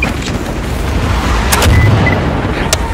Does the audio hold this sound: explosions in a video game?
yes